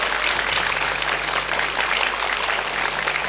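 An audience applauding after a short presentation in a hall, dense steady clapping lasting throughout at full strength.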